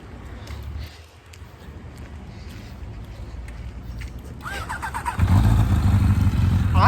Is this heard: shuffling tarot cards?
no